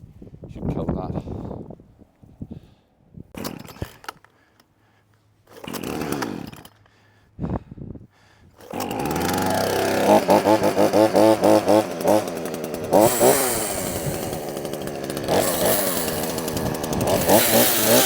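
Chainsaw cutting through a thick vine stem wrapped around a tree, after storm damage: someone talks in short bursts first, then the saw roars up loud and close and drones steadily to the end.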